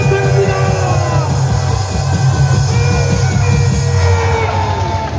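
A large crowd at an outdoor civic rally claps and cheers for a committee chairman, loud sustained applause mixed with shouts and whoops that stays strong throughout.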